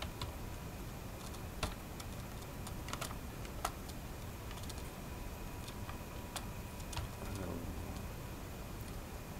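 Sparse, quiet keystrokes on a computer keyboard, a few isolated clicks and short bursts against a steady background hiss, with no talking.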